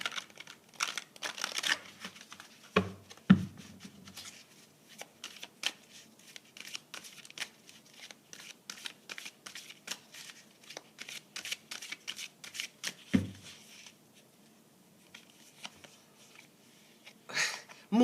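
Archetype oracle cards are shuffled in quick papery riffles and taps, close and fairly soft, in irregular bursts with short pauses and a few louder slaps.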